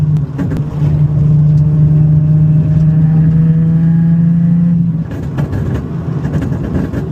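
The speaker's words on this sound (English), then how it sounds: "See how it's popping right now, like at 3K RPM." A Nissan 370Z retuned on UpRev and running a burble map idles with a steady, loud exhaust drone, then crackles and pops around 3,000 rpm, with sharp bursts breaking through near the end.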